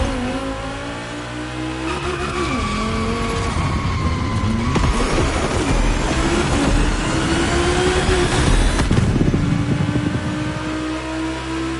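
Vintage Volkswagen cars run on a race track, their engines droning loudly and continuously, with pitch rising and falling as they accelerate and pass close by.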